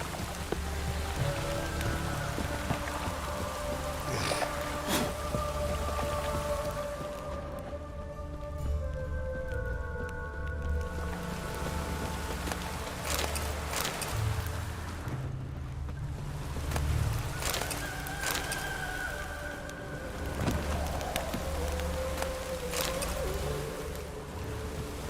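Steady rain falls in The Witcher 3, a constant dense hiss of drops with low rumbling ambience and occasional sharper taps, loud and unbroken throughout with no one talking.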